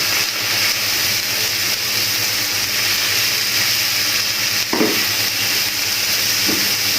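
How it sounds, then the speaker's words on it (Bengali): Prawns coated in masala for a prawn malai curry fry in a pan with a loud, steady sizzling hiss, joined by a couple of brief scrapes as they are stirred. "আমরা এটা একটু কিছুক্ষণ নেড়ে নিই"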